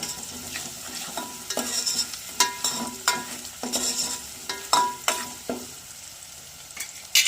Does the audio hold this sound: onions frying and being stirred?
yes